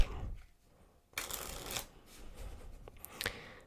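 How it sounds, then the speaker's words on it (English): A deck of playing cards is shuffled up close, with a brief riffle followed by a longer run of crisp, fluttering card noise, then softer handling; no speech is heard. "Let's give this deck a good mix up."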